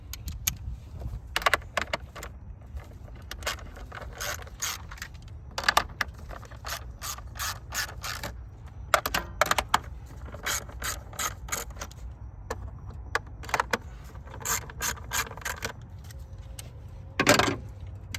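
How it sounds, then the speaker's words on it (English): A 3/8-inch ratchet on an extension with a 10 mm deep socket loosens engine cover bolts during a PCV valve replacement, giving repeated bursts of close, crisp clicking pawl ratchet strokes with short pauses between runs. "You can go ahead and pair that with an extension 3/8 ratchet."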